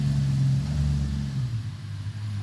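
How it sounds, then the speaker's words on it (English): A rare Audi RS4 engine running smoothly on a quick drive to warm up, a steady low hum with a brief swell early on before settling back, heard alone without talk. "we're going for a quick little cruise to get this engine up to operating temperature"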